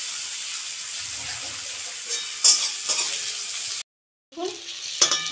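Onions frying in oil in a pan over medium flame, with a steady sizzle and a few stirring scrapes, briefly cutting out before the sizzle resumes.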